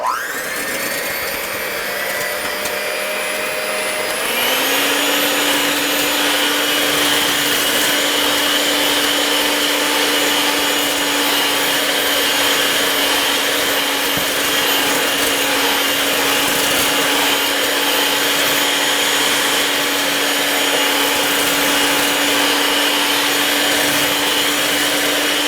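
An electric mixer whips cream with vanilla extract until stiff, its motor whirring steadily and loudly, stepping up to a higher speed a few seconds in and then holding a constant drone with no talking.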